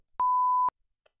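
In the game Keep Talking and Nobody Explodes, a censor beep: a single loud, pure electronic beep held for half a second, clean and isolated against silence.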